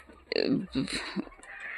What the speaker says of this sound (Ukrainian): кури бояться голуба, не лякайтесь